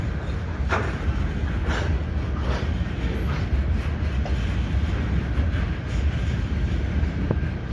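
A CN freight train rumbles steadily across the Lachine Canal bridge in St Henri, Montreal, in winter. The continuous low roar is broken by faint periodic clicks of wheels over rail joints.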